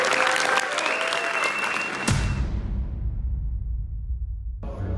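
An audience at a Muslim content summit bursts into full applause, a dense wash of clapping that stops abruptly after about two seconds, leaving a low rumble of the hall.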